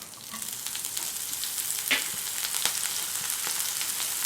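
Chopped green chilies with cumin and mustard seeds frying in about three tablespoons of hot oil in a pan, a steady close sizzle with scattered small pops and crackles, no voices.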